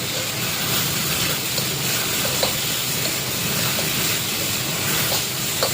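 Cabbage stir-fries with fish sauce in a hot pan, giving a continuous dense sizzle with scattered scraping and stirring noises close by.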